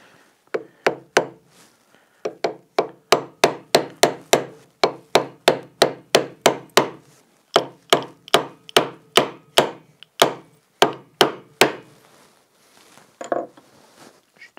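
Steady mallet blows drive a freshly sharpened chisel into wood, cutting dovetails for a workbench top; around thirty crisp, evenly spaced knocks, close and loud, with a brief pause partway through.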